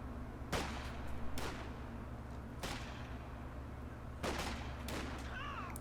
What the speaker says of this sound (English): That model was about half health and got cut down in one shot from the snipe rifle, from the scope rifle.